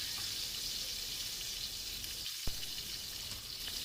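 Tomatoes sizzle on a grill pan with a steady, close frying hiss that runs throughout, broken by one brief knock near the middle.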